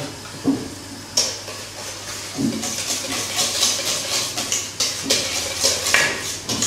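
A whisk beats a pink sauce in a bowl for a crab dish, with quick irregular metallic clinks and scraping strokes against the bowl's side, fairly close, some louder taps standing out.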